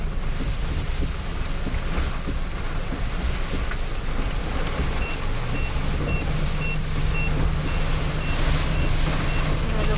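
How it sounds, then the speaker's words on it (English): A voltmeter sounds a faint, regular beep for low voltage inside a vehicle during a heavy rainstorm. The beeps come under a loud, constant roar of rain and wind. "If you want to know what that beeping is, it's my voltmeter."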